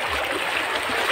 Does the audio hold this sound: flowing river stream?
yes